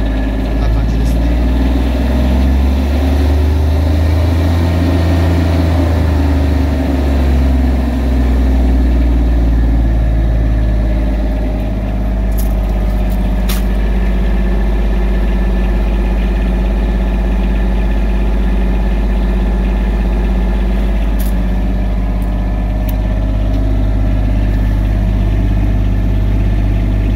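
A Denyo DLW300LS diesel engine welder generator runs loud and close, a steady low engine drone with a shift in its rumble around midway, with a voice talking faintly over it.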